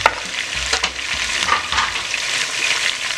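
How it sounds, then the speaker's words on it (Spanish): Beef ribs with sliced onion fry and get stirred in a pan, a steady close sizzle with scraping strokes of the utensil scattered throughout. "Ya está bien frita nuestra carne"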